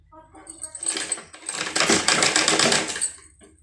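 A sewing machine stitches blouse fabric in a short, rattling burst that builds and then stops, heard close with a little background noise.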